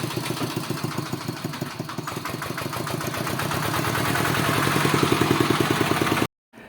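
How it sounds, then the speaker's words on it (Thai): The engine of a homemade Thai-built tractor runs with a close, loud, rhythmic clatter, steady knocking pulses that grow slightly stronger before cutting off abruptly near the end; no talking. "นี่ก็คือรถไถ ไทยประดิษฐ์นะฮะ"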